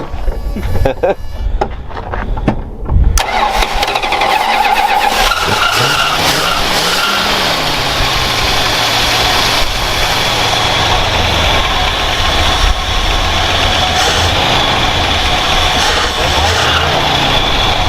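An old Mopar car engine, left sitting in the desert for 20 years, sputters and catches, then settles into a steady, loud idle with a rough mechanical drone, with people talking over it.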